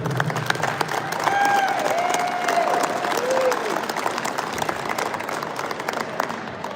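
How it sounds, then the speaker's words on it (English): A crowd at a Second Amendment hearing in a state house applauds, a dense, sustained wash of clapping that swells early and then fades gradually over several seconds, with a voice briefly heard over it. "give a big round of applause for Frank Scotia"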